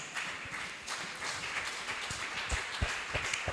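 A church congregation applauds loudly during a worship service, a dense, sustained wash of many hands clapping at once, close and continuous with occasional sharper claps standing out.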